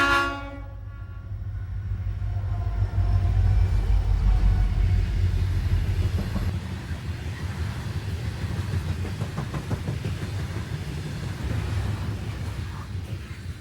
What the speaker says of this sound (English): '6765 heads U820 and this loaded coal train at Sir John's Run.